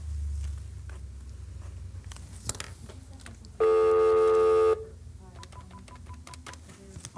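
Telephone dialing a call: a loud, sustained electronic dial tone of about a second stands out in the middle, surrounded by faint clicks and tapping, with no talking.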